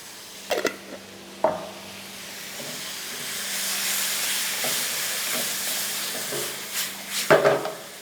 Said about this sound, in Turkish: burada biraz sıvı vereceğim